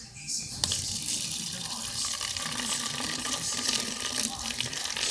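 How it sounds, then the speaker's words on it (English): Vinegar pours into a container with a steady splashing stream that starts abruptly and continues throughout, close by, with faint voices in the background. "So you put vinegar."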